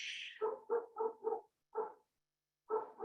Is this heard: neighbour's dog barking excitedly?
yes